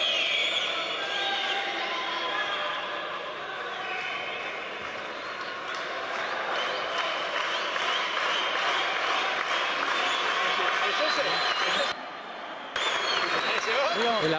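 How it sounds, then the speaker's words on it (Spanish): Boxing crowd applauding steadily at a night fight in La Rioja, Argentina, during the first round of Nahuel Díaz vs Nelson Rios, with a commentator talking over it and a brief dip near the end. "El aplauso que escuchan es porque llegó el facultativo"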